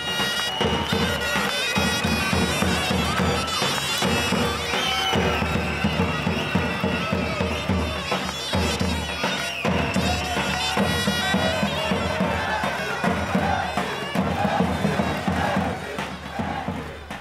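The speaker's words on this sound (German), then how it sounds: "Wie man merkt, ist eine Bombenstimmung hier im Stadion." A dense crowd of about 2,300 spectators at a Kreisoberliga football match in a Rüsselsheim stadium cheers and chants loudly and steadily the whole time, a continuous roar with no break.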